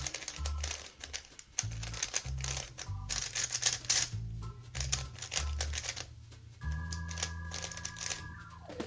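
A Super RS3M 2022 speed cube is turned by hand, giving bursts of quick plastic clicks and clacks in uneven runs with short pauses, close and fairly quiet.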